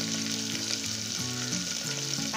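Onions and green chillies sauté in an oil-filled pan with curry leaves, giving a steady, close sizzle and crackle that runs throughout, with music playing underneath and no talking.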